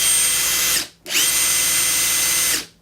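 A Makita 001G high-torque impact driver on speed 4, rated at 3,700 RPM, runs in two close bursts of loud, high-pitched motor whine. A short pause separates them, and each burst cuts off sharply.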